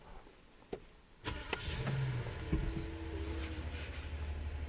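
A Rolls-Royce Ghost's 6.7-litre V12 fires up with a sharp starter burst after a quiet cabin moment, then settles into a steady, deep, smooth idle hum that carries through to the end.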